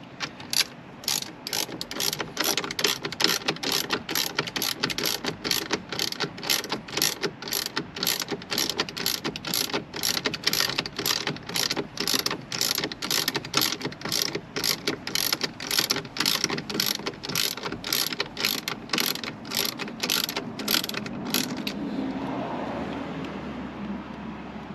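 Powered driver on torque setting F fastening a part while fitting multifunction steering wheel controls to a Porsche 911 991.2 Carrera S, a rapid steady ratcheting clatter of even clicks for about twenty seconds, then stopping, with no talk.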